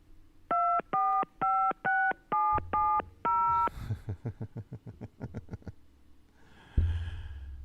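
During an Orioles–Rangers baseball broadcast, seven touch-tone keypad beeps ring out in quick, evenly spaced succession, followed by a fading rapid series of clicky pulses and a soft thump, with no speech.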